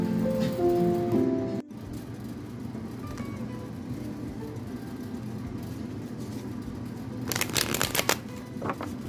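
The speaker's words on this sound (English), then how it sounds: "So I decided to pull out my tarot cards and see if I could get some answers there." Tarot cards shuffled close up, with a quick riffling flutter near the start and a longer bright rapid burst toward the end over a soft background hum.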